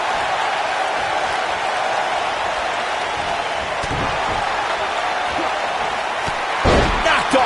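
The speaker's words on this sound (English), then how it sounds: "Knocked off his feet. Now that's a takedown." A wrestler gets slammed to the mat in WWE 2K19, a heavy thud and crash late in the clip over a steady roar of the arena crowd.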